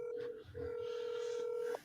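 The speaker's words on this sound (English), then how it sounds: "Whoa, who's calling? Whose phone?" A phone rings in a room, a steady electronic ring tone repeating twice with a short gap, loud and close, with a faint voice murmuring underneath.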